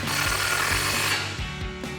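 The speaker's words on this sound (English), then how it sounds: "Now we're gonna grab our 19mm ratcheting wrench and go ahead and tighten down our control arm." A 19mm ratcheting wrench tightens the front upper control arm bolt on a Ford F-150, a close, steady run of rapid metallic clicks in rhythmic strokes, pausing briefly between pulls.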